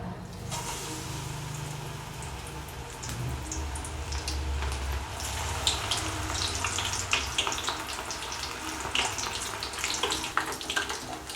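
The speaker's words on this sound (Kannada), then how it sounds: "ಇದನ್ನು ಚಲೋ ಫ್ರೈ ಮಾಡ್ಕೋಬೇಕ್ರಿ." Onion bhaji fritters fry in hot oil, giving a steady, fairly quiet sizzle with crackling pops that pick up toward the end, with no voices.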